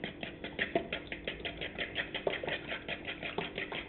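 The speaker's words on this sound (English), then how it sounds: "Now, I whisk it." Eggs are whisked in a bowl with rapid, rhythmic tapping and scraping strokes, close and steady throughout with no talk.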